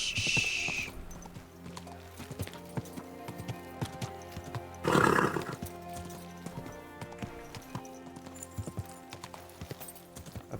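Horse hooves clip-clopping with a brief whinny in the Kingdom Come Deliverance II video game, steady hoof steps running throughout with a louder burst around the middle, set against a busy game soundscape.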